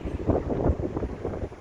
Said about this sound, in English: A little bit on the blowy side